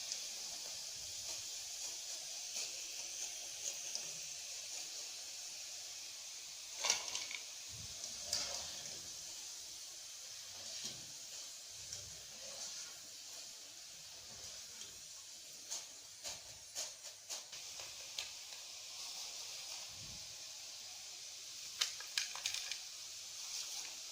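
French fries sizzle steadily in hot oil, a soft continuous frying hiss with faint crackles and small pops scattered throughout.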